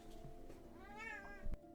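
One clear mid-length meow from a house cat, close by in a quiet room, followed by a soft thump.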